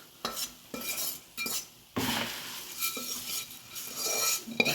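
Spices spluttering and crackling in hot oil for a batch of chivda, with bursts of sizzle and scattered pops alongside close metallic stirring clinks in the pan.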